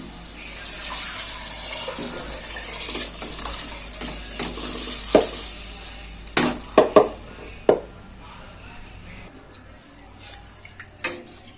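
Soaked rice is tipped into a pot of water for a coriander and mint pulao over a steady background hiss. It makes a run of sharp splashing and clattering bursts in the middle, then quieter stirring and one last knock.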